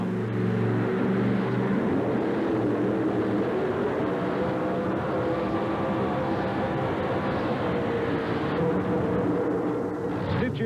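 A two-wheel drive pulling truck named Stitch roars loudly and steadily at a 1988 Birmingham truck and tractor pull, its rear wheels spinning out on the track under a dense, continuous engine drone throughout.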